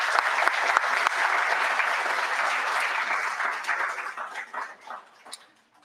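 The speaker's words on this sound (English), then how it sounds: "So allow me to applaud you." Applause from a graduation audience for the 2020 and 2021 Career Online High School classes, a dense burst of clapping that carries for several seconds before thinning out and fading.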